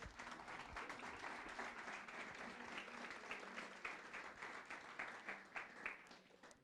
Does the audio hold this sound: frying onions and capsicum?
no